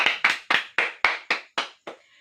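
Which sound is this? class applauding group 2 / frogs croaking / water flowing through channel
class applauding group 2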